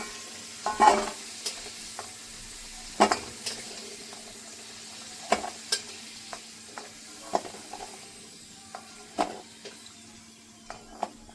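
Taro pieces fry in a pan at home while a spatula stirs them, producing a soft, low sizzle broken by sharp scraping and knocking strokes every second or two, fairly close and with nobody speaking.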